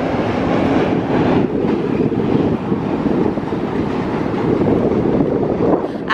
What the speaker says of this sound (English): Got a train going by here,